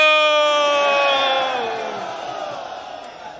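A crowd at a Pakistan Peoples Party political rally for Bhutto chants a slogan in unison, one loud sustained collective shout that slowly fades over a few seconds.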